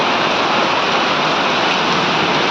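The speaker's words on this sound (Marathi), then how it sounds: "आणि हे बघा पाणी बघा कसं गळालंय." Heavy rain soaks an outdoor sound system setup in Solapur. The hiss of falling water stays dense, loud and steady from start to end, with no talk.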